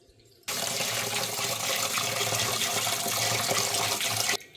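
Matta rice is washed under a running kitchen tap, a loud, steady gush of water that starts abruptly, holds evenly for about four seconds and then cuts off.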